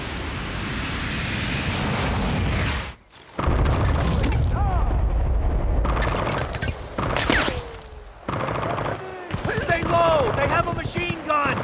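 A JDAM bomb detonates in Battlefield: Bad Company with a loud, heavy, rumbling boom that fills the opening seconds, followed by a brief cut to near silence and then more clattering, chirping battle noise and game voices.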